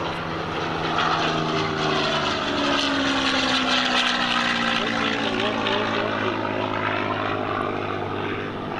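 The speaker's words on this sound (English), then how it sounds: "Listen to the sound of that engine, folks." A P-51 propeller warplane engine roars steadily and loudly throughout, its drone rising and falling slightly as the aircraft passes low overhead at an air show.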